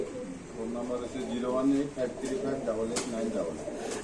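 Racer and giribaz pigeons in a home loft in Khilgaon, Dhaka, coo softly in a low, steady murmur throughout, beneath close conversation.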